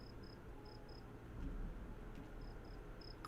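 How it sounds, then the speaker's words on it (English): Faint, high-pitched cricket chirps repeat in pairs of short pulses over soft, steady ambient hush in the nighttime outdoor setting of the fantasy game Veloren, with no voices. "Crickets in the background."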